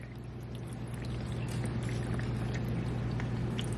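Motor oil draining from a car's oil pan into a catch container during an oil change, a steady continuous pouring trickle heard close up with a low hum underneath, alone without talk.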